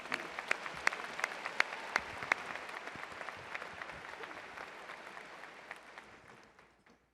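Audience applause at an August 2015 university commencement ceremony, a moderately loud round of clapping with a few sharp claps standing out, fading gradually toward the end.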